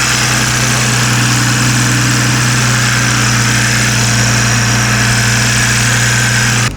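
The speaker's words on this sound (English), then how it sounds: "We're starting her up, making sure there's no leaks or anything." A BMW M340i with an MHD FlexFuel install idles loudly and close after starting, a steady deep engine hum with a constant droning tone and no voices.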